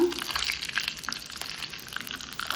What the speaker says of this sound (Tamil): இப்போ வந்து நம்ம வந்து காய் தாளிக்க போகிறோம்